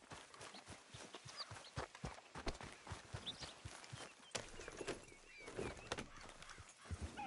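A horse's hooves clip-clop in a steady, quick rhythm in Red Dead Redemption 2, fairly quiet and close, with no talking.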